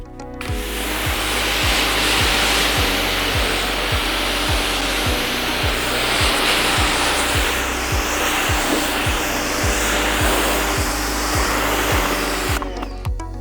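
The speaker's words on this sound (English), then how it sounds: "I'm going to finish rinsing this off and then I'll go over my final thoughts on this pressure washer." A 4200 PSI electric pressure washer rinses a surface, its steady loud motor hum and hissing water spray running without a break from start to finish, with a regular low pulsing throb underneath.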